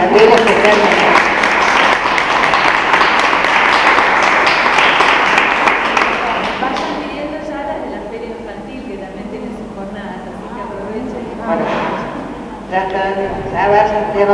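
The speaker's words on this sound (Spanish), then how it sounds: "Así que un aplauso para Gabriela especialmente." An audience at a publishing-industry talk about rights and international book fairs claps loudly for several seconds. The applause then fades and gives way to talk.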